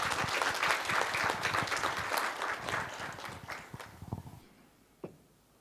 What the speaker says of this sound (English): Can you please welcome Mr. Shongwe Matogoza with a round of applause.